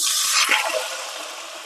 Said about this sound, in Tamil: அரிசி கழுவி வச்சுருக்கோம் இல்லையா அந்த தண்ணியை இதில் சேர்த்துக்கிறோம்